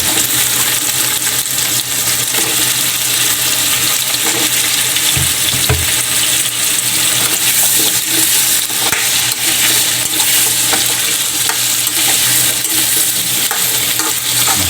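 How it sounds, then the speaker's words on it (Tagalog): Squash and vegetables sautéing in a pan for a Filipino mung bean stew, a steady loud sizzle with occasional stirring scrapes throughout. "ilagay na rin natin yung kalabasa natin para mas mabango bago natin ilagay sa munggo"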